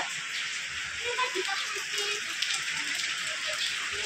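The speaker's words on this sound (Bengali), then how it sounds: "এই যে বৃষ্টি হচ্ছে, অঝরে বৃষ্টি" Heavy rain falls in Darjeeling, a steady soft hiss with faint scattered patter, fairly distant and low in level, with a voice talking quietly over it.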